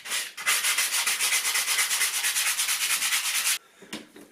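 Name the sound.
sanding plaster repair around a door frame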